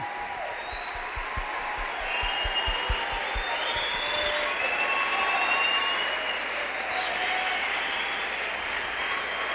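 Sustained audience applause fills a lecture hall, a steady wall of many hands clapping at even loudness, with a few low thumps near the start.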